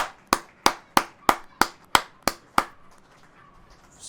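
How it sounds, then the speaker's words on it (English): At a church service, about eight sharp, evenly spaced handclaps ring out close and clear, each with a short echo, then fade into a quiet room. "A great big applause for the Argentum bride of Elohim."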